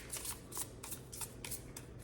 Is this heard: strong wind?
no